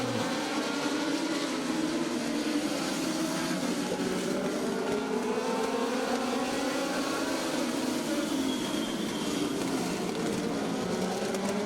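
Race cars, among them the No. 35 car, roar around a track during a heat race, their engines droning loudly and continuously with pitch rising and falling as the pack passes close by.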